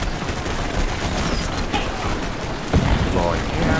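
Massed musket and rifle fire from Civil War infantry in the Take Command 2nd Manassas strategy game, a dense continuous crackle of overlapping shots with a sharper close volley near the end, mixed under talk.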